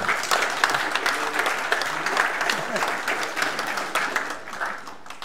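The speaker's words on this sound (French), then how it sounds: "merci de m'applaudir" Audience at a Paris tech conference applauding a speaker, a lively burst of clapping that fades gradually, with a few voices mixed in.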